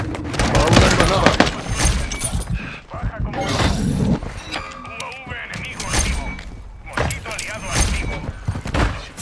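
Grenade thrown and detonating in Modern Warfare 3 gameplay, a burst of shattering, crunching blasts and thuds amid continuous gunfire and combat noise, with voice callouts heard throughout.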